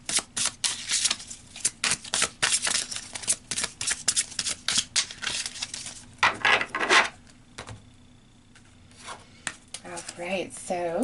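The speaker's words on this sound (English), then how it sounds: "So let's pull some more cards," Tarot cards are shuffled in quick papery riffle bursts, followed by softer rubbing and sliding as cards are drawn and laid down, with a quiet pause between.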